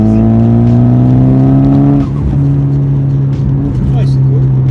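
Inside a Nissan Pulsar GTiR without a catalytic converter, the engine revs hard in a rising pull, then shifts and drops into lower revs with a few crackles and pops, loud and close with voices talking over it.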